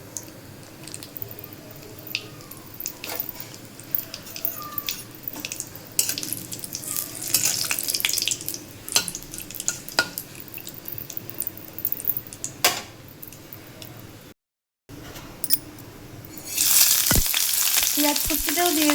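Bay leaf and spices fry in hot oil in a pan for a fish dish, giving a close, steady sizzle with scattered ticks and stirring clicks, a brief dropout, then louder sizzling surging near the end.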